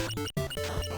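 A super attack in the video game Changeable Guardian Estique fires off as a dense, tonal electronic burst with a sharp cut near the start, then a ringing layered sweep lasting about a second.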